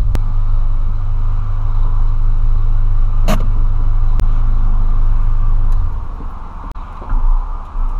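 Volkswagen Polo driving with a loud exhaust: a steady, close, heavy engine rumble and drone that eases off near the end.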